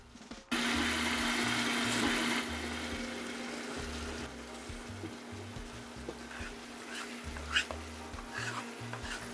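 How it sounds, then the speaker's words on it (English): Vegetables and green seasoning dropped into oil already seasoned from shrimp, a loud burst of sizzling that settles into a softer steady fry with occasional clatter and a low hum, no talking. "We are going to add the vegetable and green seasoning into the same oil"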